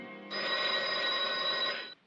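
An old-fashioned telephone bell rings in one steady, loud burst of about a second and a half, then cuts off abruptly, with no talk over it.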